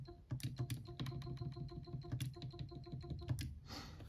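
Continuous, steady typing on a computer keyboard, with dense overlapping key clicks at a fairly quick, even pace, close and clear throughout with no talking.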